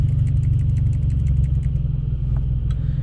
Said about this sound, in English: You hear the engine stumble,